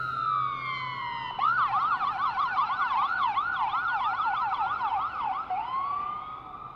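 A loud ambulance siren on a street in Chattanooga, Tennessee starts with a steady wail, then switches to a rapid yelp cycling up and down, close by before easing back.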